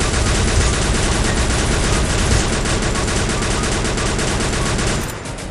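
Dense, nonstop gunfire from a Free Fire zombie-mode battle, loud rapid bursts layered into a continuous fusillade that cuts off abruptly near the end.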